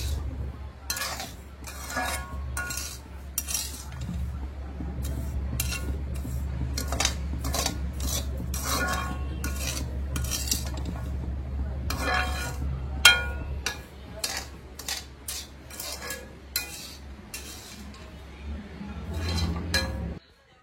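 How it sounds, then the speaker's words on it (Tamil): Samba rava being roasted in ghee in a pan, a utensil scraping and clinking against the metal in steady repeated strokes over a low background hum, with brief talk. "இப்போ இதை ஸ்லோலே வச்சு வறுக்கலாம் பாருங்க."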